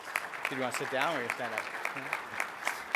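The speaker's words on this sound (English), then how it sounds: "could you give him a round of applause as well?" An audience at an official event with a provincial education minister applauds in a steady wash of clapping while someone speaks briefly over it close by.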